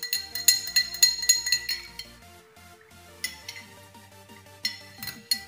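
A spoon clinks against a bowl while organic honey and fresh ginger are mixed, producing a run of quick, bright taps that pause briefly before resuming in short bursts, close and clear with no talking.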